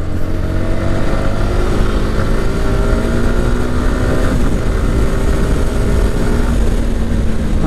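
A Yamaha R15M motorcycle engine drones loudly and steadily while riding, mixed with heavy wind rush, with no voices.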